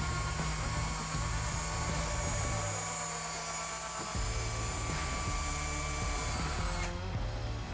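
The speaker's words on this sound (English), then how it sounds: "You hear the pump working." Electric hydraulic pump driving the wing flaps on an abandoned airplane, a steady whirring hum that runs continuously and changes tone partway through before cutting off near the end, faint and alone.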